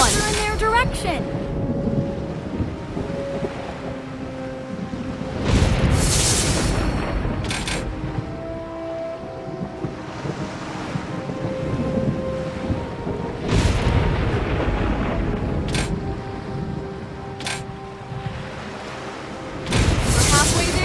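Video-game thunderstorm with lightning, with several sharp thunder cracks and rumbles bursting out at intervals over steady wind and rain noise, with a voice speaking at times.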